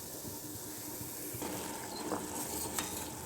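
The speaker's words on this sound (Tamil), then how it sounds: "நம்மளுடைய குலோப் ஜாமுன் வெந்துட்டு இருக்குது" Gulab jamun fry in hot oil with a constant close sizzle and soft bubbling hiss, broken by a few light stirring scrapes.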